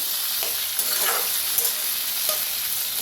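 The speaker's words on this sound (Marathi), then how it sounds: "छान असं तेलात भाजून घेऊया आणि मी ना मोहरीचं तेल वापरलेलं आहे" Potato pieces sizzle in hot mustard oil with a dense, steady hiss, along with a few soft scrapes and clinks as the pan is stirred.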